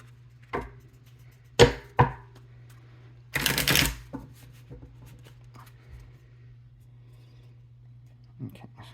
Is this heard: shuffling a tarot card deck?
yes